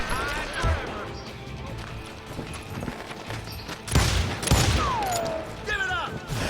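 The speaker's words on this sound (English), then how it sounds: "They're shooting in the street." Gunfire crackles through a street shootout in Call of Juarez Gunslinger, with scattered shots and sharp bursts mixed with crashes and ricochet-like whines while voices shout over the fighting.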